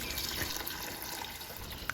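Water pours steadily into a pot of basmati rice, about one and a half litres, while prawn biryani is being made; a continuous close splashing rush with no speech.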